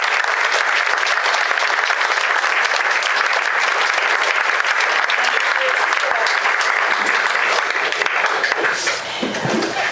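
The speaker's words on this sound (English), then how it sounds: "Please give a warm round of applause to Maria Gonzalez." Audience applause at a community storytelling event, sustained loud clapping from a crowd for the full stretch, easing slightly near the end.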